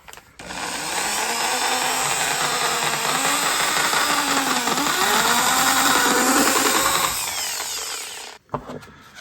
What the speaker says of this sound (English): can I drill this in front of here?